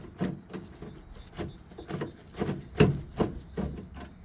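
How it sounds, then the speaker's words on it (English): Screws being driven into clips on a manual car window regulator inside a driver's side door: a run of about nine rhythmic creaks and rubbing turns, close and moderately loud, with no voices. "As the clip's already there, it's easy just to screw in."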